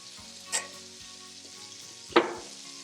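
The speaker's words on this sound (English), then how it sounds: "It's looking like my sausage over here is getting done." Sausage fries in a pan with a steady close sizzle, broken by two brief louder scrapes or stirs of a utensil, no talking.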